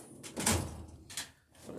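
Drawer of a diesel technician's Snap-on style toolbox slides shut with a short rolling rumble ending in a soft thud, followed by a second lighter slide a moment later, close and moderately loud with no talk.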